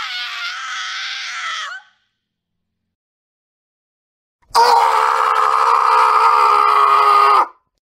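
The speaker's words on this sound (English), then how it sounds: "Why did you have to scream like that, and scare us half to death?" A loud, sustained scream rings out for about three seconds after an earlier shorter high-pitched wail and a stretch of silence.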